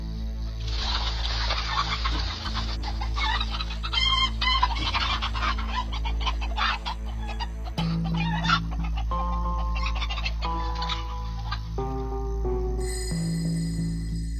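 A rooster and hens in a backyard where a fighting rooster attacks a landing eagle: dense excited clucking and squawking throughout, then a distinct rooster crow near the end, moderately loud and close.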